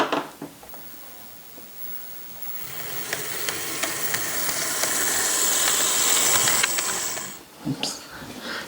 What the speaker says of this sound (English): So, anyways, we're gonna run the locomotive